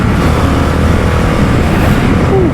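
Limited edition Indian FTR 1200 R Carbon motorcycle pulling away on a highway ride, a loud, close engine drone with steady wind rush and a rising rev toward the end.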